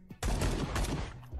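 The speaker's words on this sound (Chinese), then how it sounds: "激烈的枪响，完全不节约子弹的打法" A burst of rapid gunfire plays as an audiobook sound effect, one sudden loud blast that becomes a dense, roaring barrage held for about a second before breaking off.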